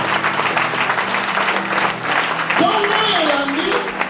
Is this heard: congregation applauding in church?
yes